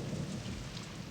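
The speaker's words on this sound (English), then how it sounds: "The torrential downpour somehow seems appropriate." Torrential rain pours down at a crowded outdoor millennium baptism celebration in Kyiv, a dense, steady roar of heavy downpour without talk.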